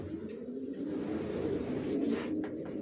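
Racer pigeons coo in a loft, a low throaty rolling cooing that continues throughout, close and moderately loud with no talk.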